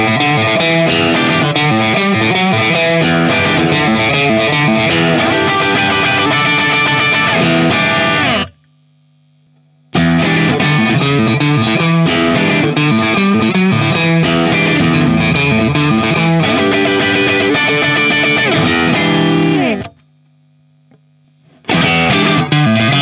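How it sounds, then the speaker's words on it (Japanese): Crunch-tone playing on a HISTORY CZ series electric guitar with a rosewood fingerboard: loud, dense distorted chords and riffs in two long passages, each broken by a short pause with only a low hum. "続いてクランチサウンド。 このモデルはローズウッド指板なので、中音域のバランスも良く、"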